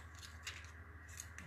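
Scissors snip through a rub-on transfer being trimmed on a dresser, a couple of quiet, close cutting sounds over faint background hum.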